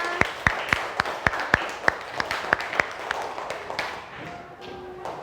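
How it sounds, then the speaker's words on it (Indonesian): Pupils in a classroom applaud a group after its presentation, a sparse run of sharp, evenly spaced claps that loosens into scattered softer ones and fades with faint room noise. "beri tepuk tangan"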